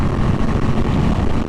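Yamaha MT-07 motorcycle pulling hard at full throttle in fourth gear on an open road, a steady loud engine roar with heavy wind rush throughout and a short sharp knock near the end.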